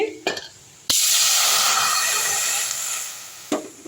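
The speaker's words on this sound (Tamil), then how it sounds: "தண்ணி கொஞ்ச நேரம் நல்லா கொதிக்கட்டும்" Water hisses and sizzles loudly in a hot pan for a few seconds, framed by sharp clicks and knocks of cookware before and after.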